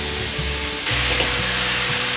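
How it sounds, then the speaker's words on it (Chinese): Enoki mushrooms stir-fried in a pan with carrots and celery, giving a steady close sizzle with small bursts of stirring, no voices. "把金针菇炒软。"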